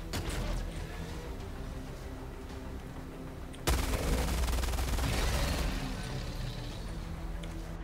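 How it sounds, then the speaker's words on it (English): A heavy machine gun fires in Helldivers 2 in a sudden loud, dense burst of continuous rapid shots. The burst rises sharply out of a quieter combat background and then tapers off. "toss a stun grenade, circle around while they're stunned, and unload half your mag into them"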